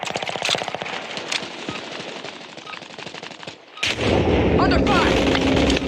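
Rapid automatic gunfire in a war video game crackles steadily for several seconds, then gives way to a heavier roaring blast and rumble, with a brief spoken game callout.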